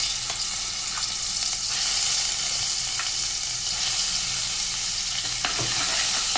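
Ground tomato and onion paste sautés in a pan with a loud, continuous sizzle. A few sharp spoon scrapes and taps sound as it is stirred, with no voices.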